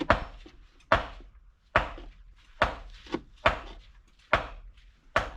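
Onions being chopped on a board: seven firm, evenly spaced knife strikes, each a sharp thud with a short tail, close and clear with no talking.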